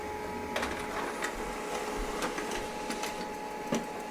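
An HP LaserJet Pro 3001dw laser printer printing a page, a steady close mechanical whir with a faint tone and periodic clicks and ticks throughout.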